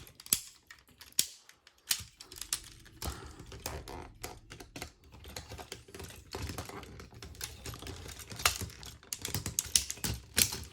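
Plastic parts of a Cybertron Optimus Prime transforming toy are folded and snapped into place, giving close, sharp, irregular clicks and ratcheting taps, some in quick clusters, with quiet pauses between.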